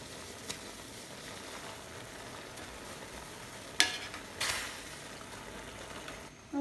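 Noodles frying in oil in a pan are flipped over: a steady, hissing sizzle runs throughout, broken by a sharp clatter near the middle and another brief burst soon after.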